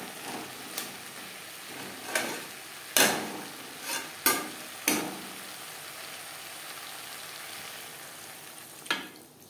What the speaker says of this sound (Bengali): তিন চার মিনিট মশলার সাথে আলু বেশ ভালো করে কষিয়ে নেওয়ার পর দিয়ে দেব জল।